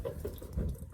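Water leaking and trickling from a failed water pump on an Isuzu 4BE1 engine, a soft continuous splashing flow, fairly quiet and steady, with no talking.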